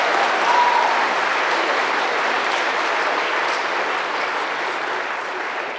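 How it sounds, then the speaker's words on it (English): Sustained audience applause at a school spring theatre concert, a dense steady wash of clapping from a large crowd that holds evenly for several seconds and fades slightly toward the end. "Can we give her an extra round of applause?"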